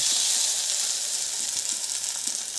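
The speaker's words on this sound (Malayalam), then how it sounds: "അതിൻ്റെ നടുവിലേക്ക് നമ്മൾ ഈ മുട്ട ബീറ്റ് ചെയ്ത് വെച്ചതൊന്ന് ഒഴിച്ച് കൊടുക്കുകയാണ്" Steady, loud sizzling in a hot pan as beaten egg is poured into the oil for a moringa leaf scramble, bright hissing throughout with faint soft crackles and no voices.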